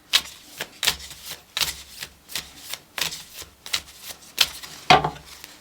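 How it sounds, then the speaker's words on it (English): Oracle cards being shuffled by hand in a quiet room, a rapid series of crisp riffling bursts and soft slaps, each lasting a fraction of a second, repeating roughly twice per second with no talking. "I want to just shuffle the oracle a little bit more"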